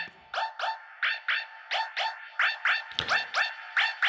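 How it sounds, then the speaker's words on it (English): A repeating electronic alarm-like sound in a drum and bass track pulses in quick, regular bursts of warbling high tones, with a brief thump partway through. "This is the alarm."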